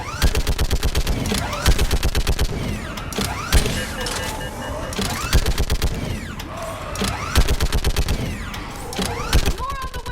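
Rapid automatic gunfire from a mounted gun in a Mass Effect 3 battle on Thessia, loud close bursts of fast regular shots repeating in sequence, with mechanical whirring and brief pauses between volleys.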